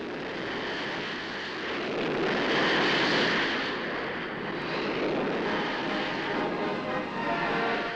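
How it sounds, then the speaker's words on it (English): Folland Gnat jets of the Red Arrows land in formation at an air show, a loud sustained jet engine roar that swells and holds steady, with no talk over it. "landing the jets in formation"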